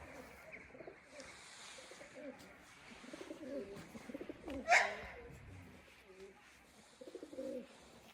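Domestic pigeons coo softly from nearby, moulting their last flight feathers; the low, rounded calls come in a few short phrases over faint background noise, with one brief louder sound midway.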